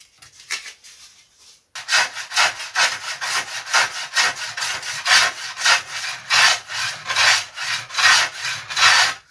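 Hand sawing or filing on a wooden part of a pre-WW1 style RC model aircraft, a brief quiet scrape then a steady run of close, loud rhythmic rasping strokes.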